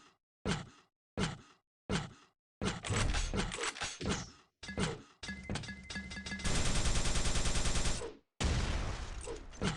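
Rocket launcher shots and explosions in Quake 3 DeFRaG movement play, a series of sharp separated blasts followed by a longer sustained roar of firing, clear and foregrounded with no talk.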